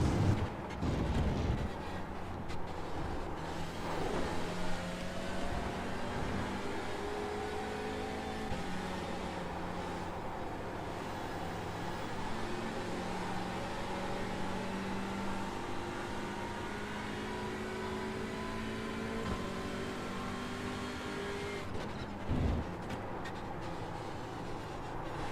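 Onboard a touring race car at the Barcelona circuit, the engine drones steadily and holds its pitch for long stretches, with clear shifts at intervals, close and continuous with no talk.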